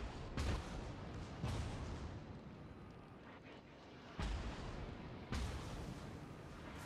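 Heavy naval guns firing in a World of Warships-style battle between the battleships Mikasa and Midway, with loud booming blasts at about 0.4, 1.4, 4.2 and 5.3 seconds over a constant roaring rumble of battle noise.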